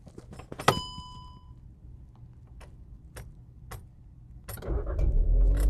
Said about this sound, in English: So you hear that sound of the engine. That tells you that the car is on.